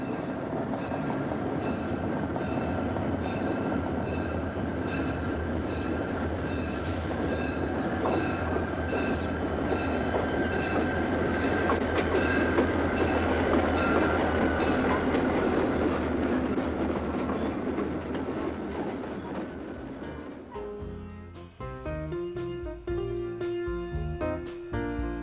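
A long freight train led by EMD SD-45 locomotives, one a red, white and blue former Erie-Lackawanna bicentennial unit, rumbles past with a steady loud roar, then rapid clickety-clack of wheels over rail joints near the end.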